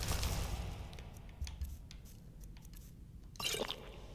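Drinking from a water skin in Skyrim, soft squishing and liquid gulps close up, with a brief louder splash near the end and no talk.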